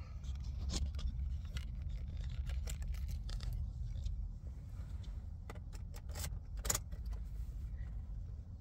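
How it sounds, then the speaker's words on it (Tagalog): Car keys jangle up close inside a car after a general check-up, giving scattered bright metallic clinks and a few sharper rattles over a low, steady background hum, with no one speaking. "Ito ang ating susi."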